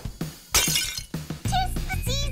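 A ceramic mug hits the floor and shatters with a bright crash, after a couple of sharp knocks. Cartoon voices follow right after the break.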